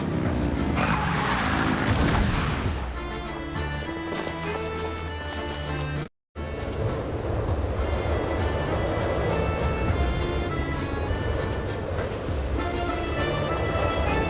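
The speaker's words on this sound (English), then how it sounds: "Rev the engines!" Car engines in the Genshin Impact video game rev and skid loudly for many seconds, a dense roar with squealing tire noise and rhythmic clattering, broken by one brief cut to silence.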